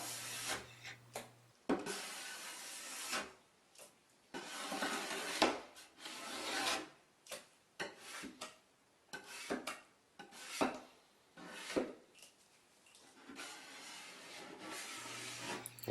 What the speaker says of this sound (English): with a clean scraper you can scrape all of the rest off in one go.